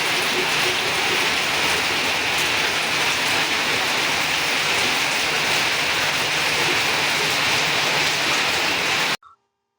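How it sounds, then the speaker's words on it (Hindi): Heavy rain pours down steadily overnight, a dense, loud continuous hiss of drops hitting surfaces that fills the whole clip and cuts off abruptly just before the end. "हमारे यहाँ रात से ही इतनी जोरदार बारिश हो रही है"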